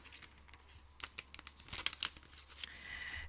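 Single-sided patterned paper for card making is cut and handled close by. Soft crinkling and brief tearing swishes come in a few quick bursts, with a sharper slicing sound near the end, in a quiet room.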